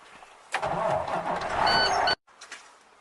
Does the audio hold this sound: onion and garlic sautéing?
no